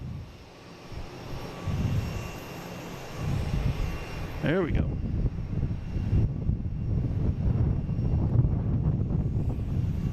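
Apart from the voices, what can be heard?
Boeing 737-800 jet engines rumbling during takeoff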